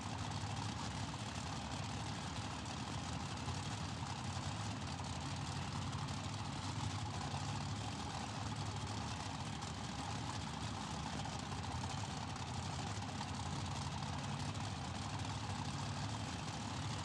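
A vehicle engine idles steadily in the driving game BeamNG.drive, a low, continuous rumble holding an even level throughout with no variation in revs and no talk.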